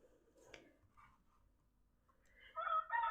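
A backyard rooster crows loudly near the end, preceded by a few faint clucks and scattered small noises from the chickens in an otherwise quiet setting.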